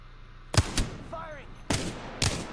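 Gunfire in a battle royale video game: four sharp, loud shots spaced irregularly over a couple of seconds, with a brief electronic chirp between them and no talk.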